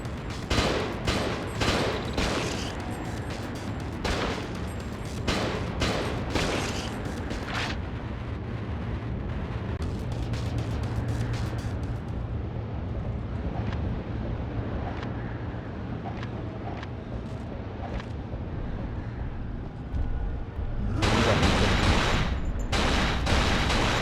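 Rifle gunfire in the video game Cold Fear cracks out in rapid bursts of close, loud shots at the start, falls quiet into a rumbling lull, then returns in another heavy flurry near the end.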